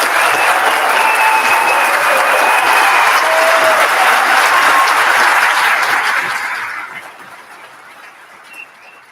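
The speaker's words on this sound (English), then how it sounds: "a round of applause for our cadets." Loud, sustained applause greets a graduating class of 36 new state trooper cadets, then tapers off and fades to a murmur over the final few seconds.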